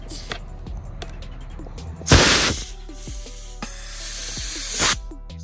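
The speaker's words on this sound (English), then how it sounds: "You just get your air compressor, you get your fill tip, and you put it on top of here." An air compressor forces air through a fill tip into a foam sprayer for a waterless car wash: two loud, sharp hissing bursts, the second held longer, over faint background clatter.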